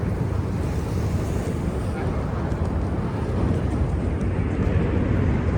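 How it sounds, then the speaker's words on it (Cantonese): Ocean waves wash steadily on a city waterfront, a loud continuous roar of surf mixed with wind buffeting the microphone, with no break across the stretch. "聽下啲海浪聲。"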